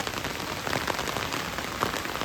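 Steady rain falls on a hard surface, a dense continuous patter with scattered louder drops throughout.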